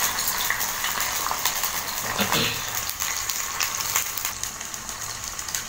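Aloe vera pieces fry in hot oil over a low flame in a home kitchen, giving a continuous soft sizzle and crackle close by.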